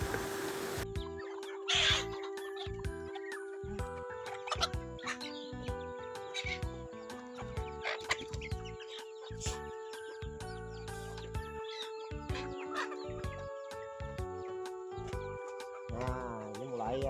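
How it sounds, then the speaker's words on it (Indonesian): Chickens cluck and squawk in a breeding coop as feed is prepared, a busy overlapping chorus of calls close by with a rooster-like cry, no talking over it. "ayam mulai pada datang udah nih, udah mendengar mulai ribut ya"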